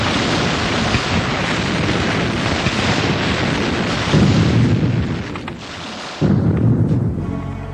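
An artillery barrage at Tobruk rumbles as dense, rolling low booms and blasts that merge into a continuous roar, with brief lulls and renewed bursts, heavy and distant-sounding, on an old recording.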